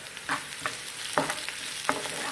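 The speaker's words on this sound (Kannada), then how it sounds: "ಎರಡು ನಿಮಿಷ ಫ್ರೈ ಮಾಡ್ಕೊಳ್ಳೋಣ ಬೆಳ್ಳುಳ್ಳಿ ಜಜ್ಜಿರೋ ಅಂಥ ಬೆಳ್ಳುಳ್ಳಿ ಹಾಕೋಣ" Crushed garlic frying in hot oil, a continuous close sizzle punctuated by four scraping stirs of a spoon against the pan.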